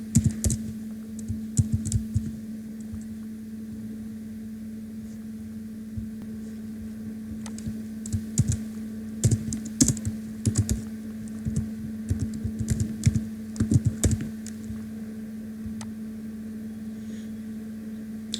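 Keys clack on a computer keyboard in irregular bursts of quick taps, close and fairly quiet, over a steady low electrical hum.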